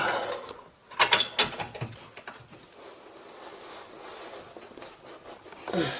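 Ratchet tightening a steering tie rod on a Mercedes C200 CDI: a cluster of close, sharp metallic clicks and ratcheting strokes early on, a quieter mechanical stretch, then one more short scrape at the end.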